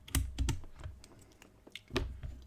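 Small plastic clicks and taps come from a mechanical keyboard as a keycap is pried off with a keycap remover, a few sharp close snaps in quick succession, quiet and without talk.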